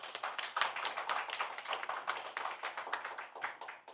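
Audience clapping at a neighborhood residents' general assembly after six agenda presentations, a moderately faint, steady patter of many hands lasting throughout.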